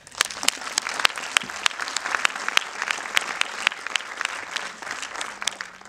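Applause from an audience at a documentary screening, dense steady clapping with sharp individual claps standing out, sustained throughout without speech.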